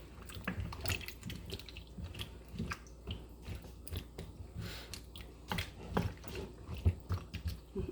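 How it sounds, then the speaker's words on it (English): A spoon stirs beef stew with meat, vegetables and liquid inside a Tupperware pressure cooker, making soft irregular scrapes, clicks and wet knocks against the pot, close and fairly quiet. "Give it all a stir"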